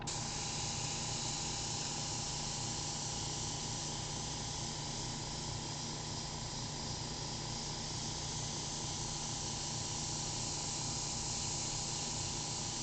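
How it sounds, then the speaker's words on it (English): Continuous steady hiss of an airbrush spraying, broad and even for the whole stretch, close and moderately loud, with no talk over it. "This is the difference between a good airbrush and a bad airbrush."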